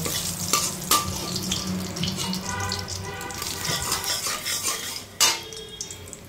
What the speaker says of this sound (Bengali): এখন এই শিং মাছগুলো ভেজে নেব।